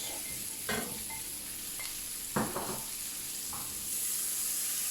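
Finely chopped half onion dropped into melted butter in a frying pan for chicken croquettes, with a steady sizzle and a few brief stirring scrapes, close, and no talking.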